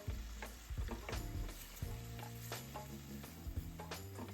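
Sauce with melting butter sizzles steadily in a hot pan while a utensil scrapes and taps in an irregular stirring rhythm, heard close up with no talk.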